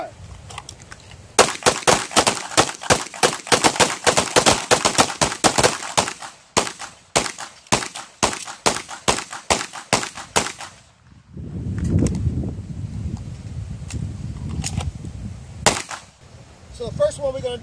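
Pistol shots fired at an outdoor shooting range during a training session, a long rapid string of sharp cracks from several shooters overlapping, loud and close, then a pause with a rumbling noise and a few more scattered shots.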